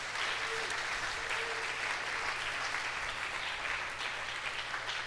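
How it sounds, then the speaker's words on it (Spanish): A church congregation at a Spanish-language service breaks into sustained applause, a broad, even wash of many hands clapping throughout, with a low hum underneath. "Denle un aplauso a Dios por esto."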